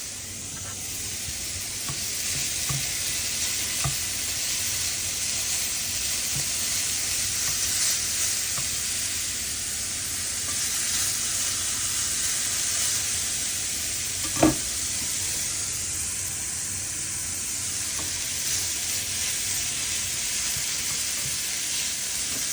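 Chicken pieces sizzle steadily in a frying pan, a constant close hiss of browning with faint crackles and one brief clank partway through, going on alone without talk.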